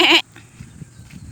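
Goats bleat close by in a rural yard, with one loud, wavering bleat at the start followed by faint, low murmurs in the background.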